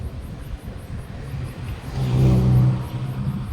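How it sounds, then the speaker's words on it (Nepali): An Ola electric scooter rides from Rangtang toward Siliguri near Sukna forest, with a steady low motor whir and road rumble throughout, swelling louder in the middle. "अहिले ओला स्कुटरमा मुख्तारको साथ आइरहेको छ।"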